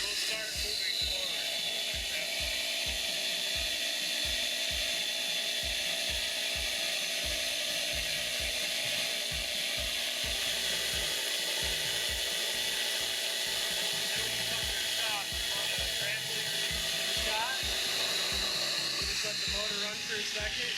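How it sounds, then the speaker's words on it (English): An IMPACTS S210E shot blaster runs continuously with its motor engaged while blasting, a loud, steady roaring hiss with a constant rushing drone throughout, and someone talking over it. "So we'll engage the motor first, and then as we pull the shot lever, we'll start moving forward."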